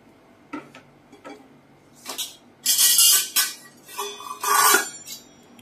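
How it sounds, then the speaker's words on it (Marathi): Poha dry-roasting on low heat in an iron kadhai, stirred continuously, giving dry rustling scrapes and a few sharp clinks that grow louder midway, with no talking. "पोहे हे 1-2 मिनिटं फक्त असे सतत हलवत भाजून घ्यायचे"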